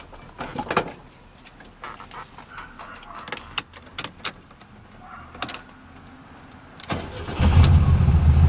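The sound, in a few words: 1973 VW Super Beetle 1303 engine starting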